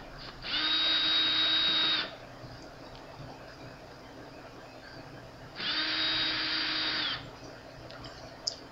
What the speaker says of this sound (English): Remove the two screws from the opposite side.